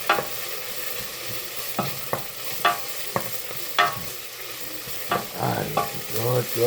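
Onions for spicy sausage rice fry in a pan, a soft sizzle beneath repeated close scraping strokes of a spoon stirring them at an irregular pace, with no talking.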